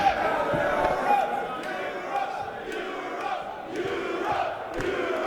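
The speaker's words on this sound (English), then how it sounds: "And our crowd is a buzz." A crowd at the 2012 Mosconi Cup pool match buzzes after a shot, giving a sustained murmur of cheers and chatter with a commentator talking over it.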